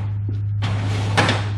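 A drawer in a garage workspace slides open with a quick scraping rush, then rattles briefly as its contents shift, heard close over a steady low hum.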